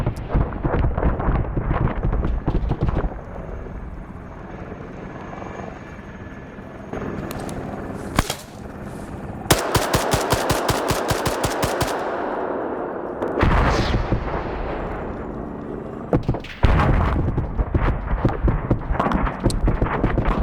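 Video game rifle firing 7.62x51 rounds into the air, with bursts of rapid sharp shots in quick succession, loud and close, mixed with other in-game gunfire and clattering noise and no talk.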